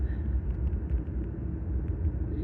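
An Aston Martin Vanquish's engine rumbles loud and steady while the car is being driven, a deep continuous drone heard close from inside without a break.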